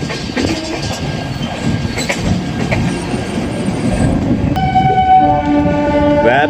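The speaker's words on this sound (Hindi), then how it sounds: "वैब 7 की हॉन्किंग यार मज़ेदार होती है" Horn of an Indian WAP-7 electric locomotive, heard on a moving train, sounds loudly and holds steady over the last third, above a constant rumble of running coaches.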